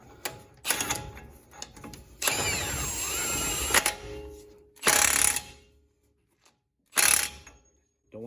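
Ratchet tightening the front axle shaft nut on a 2006 Dodge Ram 1500 4x4 during a wheel bearing job, a few bursts of quick metallic clicking and rattling separated by quiet gaps, close and fairly loud.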